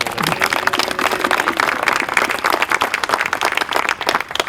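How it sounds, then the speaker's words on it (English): Audience applause at an outdoor memorial dedication in Winthrop, Massachusetts, a dense patter of many hands clapping steadily and fairly close, with a brief voice at the start. "Everybody should give him a little round of applause"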